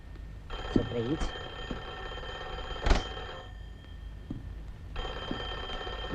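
A telephone's electric bell rings in two long bursts separated by a pause, moderately loud in a room, with someone talking and a sharp knock or thud between the rings.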